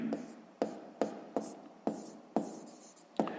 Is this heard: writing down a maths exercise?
yes